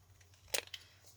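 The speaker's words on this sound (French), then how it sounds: "une paire de ciseaux, il suffira de venir couper ici" Scissors cut a paper tag card with two short, faint snips close by in an otherwise quiet moment.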